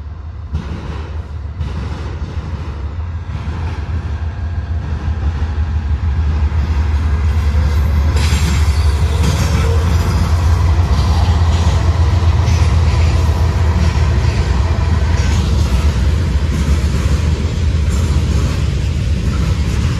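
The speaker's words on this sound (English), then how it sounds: "we got another the Norfolk Southern train coming down line" A Norfolk Southern train passes at Depot Street in Berea, Ohio, a loud continuous rumble of rolling railcars that swells after the first few seconds and holds steady, with faint rhythmic wheel clatter.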